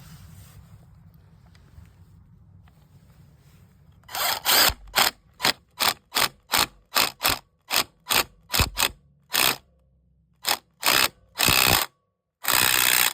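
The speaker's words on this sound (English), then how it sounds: "you can probably hit it with the impact wrench now" An impact wrench hammers on a Kawasaki KLX140 clutch in a rapid string of loud, close bursts, each a short rattling blast with brief gaps, following a few seconds of quiet shop hum.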